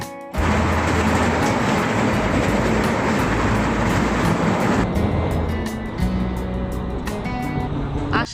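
A passenger train runs on rails with a loud, continuous rumbling roar heard from on board, steady throughout and shifting to a lighter clatter with rhythmic knocks near the end.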